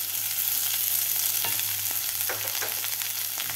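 Shredded cabbage sizzling in a pan with sautéed green chillies for a cabbage soup, giving a steady, dense crackle and hiss throughout with occasional louder pops and no talking.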